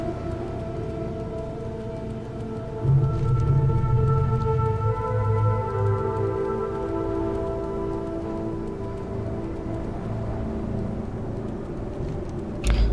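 Natural zone ambience from World of Warcraft Classic, a steady layered bed of soft rain-like hiss, low rumble and sustained tones that swell briefly partway through, with no music or talk.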